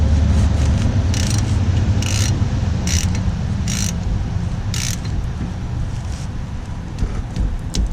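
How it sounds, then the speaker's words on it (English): A 1/2 inch ratchet fitted with a 3/8 adapter clicks in a series of evenly spaced bursts while turning on a truck, close by over a steady low rumble. "I have a 1/2 inch ratchet with a 3/8 adapter,"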